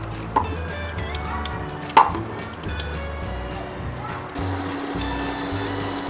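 Peeled sweet potato being finely chopped for halwa, with a series of quick knife chops, one sharper whack near the start, over a steady kitchen hum.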